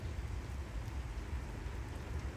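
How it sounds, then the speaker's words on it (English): Light rain drizzles outdoors on a rainy evening, a soft, steady hiss with faint pattering, continuous and fairly quiet, with no voices. "I'm gonna try to show you guys that it's raining"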